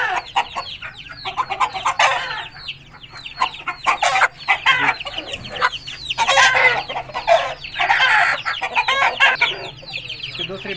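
Female Aseel hens clucking and calling near the recorder in a dense, continuous chorus, with a rooster-like crow mixed in and a low steady hum underneath.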